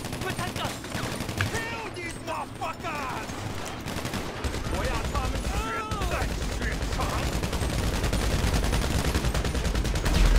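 Automatic gunfire crackles throughout a GTA 5 Online casino mission, rapid bursts layered under several players talking over each other, the shooting growing denser and louder toward the end.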